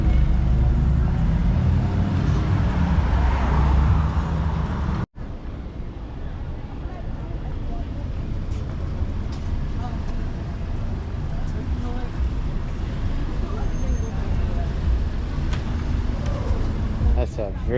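Cars, including a G-Wagon and Porsches, roll along Rodeo Drive with a steady roadway rumble and wind buffeting close to the mic, while a person talks over the traffic.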